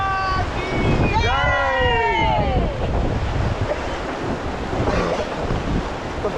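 Ganga river water rushes and surges loudly around a raft in Rishikesh, with heavy wind buffeting the microphone and people talking and calling out over the roar.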